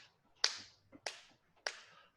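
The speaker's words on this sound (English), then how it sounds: "So I'm going to clap the beat of that measure" Hand claps marking a musical beat, three sharp, close, bright claps spaced evenly about six tenths of a second apart, with a softer tap between the first two, in an otherwise quiet room.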